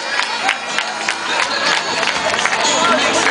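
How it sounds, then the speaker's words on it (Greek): A stadium crowd at the parade of nations during the opening of the 2008 ISDE enduro event claps and cheers. The broad wash of applause carries on steadily, with voices mixed in. "τώρα χειροκροτάμε και δείχνουμε την αγάπη μας, φίλες και φίλοι, στο Βέλγιο"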